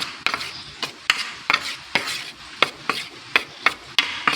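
Fish fillets being stirred and mixed with cornstarch and seasoning in a bowl, giving a dozen or so sharp, close scraping clicks in an irregular rhythm, with no talking.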